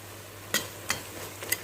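A spoon stirs chicken with tomato and curry paste in a pot, giving three or four soft, quick scraping strokes over a faint, quiet background.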